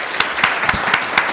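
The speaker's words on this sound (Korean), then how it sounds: "우리 하나님께 감사와 영광의 박수 올려드리겠습니다" Steady congregation applause during a Korean church Sunday service, dense and continuous with a few sharper claps standing out, filling the whole short stretch without voices.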